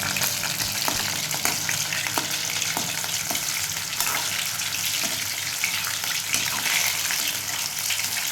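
Green chicken masala sizzles steadily in a hot pan while a spoon stirs it, giving repeated soft scraping strokes over continuous close frying hiss, with no voices.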